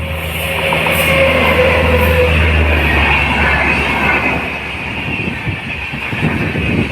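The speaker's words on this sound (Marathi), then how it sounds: "हे बघा मेल येते आणि आपण आलो आहे ट्रेनच्या इकडे चालू आहे" A mail train rumbles past near Vaitarna creek, with a steady, loud roar of wheels and carriages that holds for several seconds and then eases off a little, with no voices over it.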